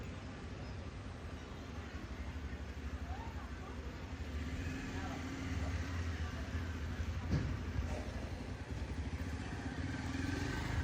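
A motorcycle engine drones steadily during a ride, a continuous low rumble with road and wind noise, and a voice talks over it intermittently.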